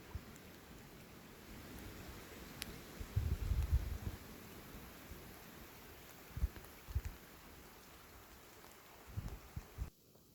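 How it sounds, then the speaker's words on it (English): Soft, steady patter of rain falling onto water near a dam, a gentle outdoor hiss with occasional heavier drops and low rumbles, no voices. "So if you can hear the sound the rain is making on the water"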